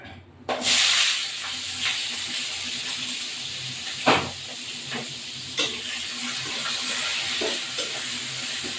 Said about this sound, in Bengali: এবার এই পেঁয়াজগুলো দিয়ে দেবো মধ্যে